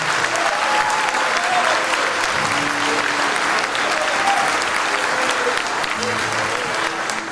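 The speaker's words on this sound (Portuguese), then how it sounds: "Se é para aplaudir, aplauda Jesus melhor." Church congregation applauding during a sermon, a dense, steady wash of clapping that fills the whole stretch at even loudness, with faint voices mixed underneath.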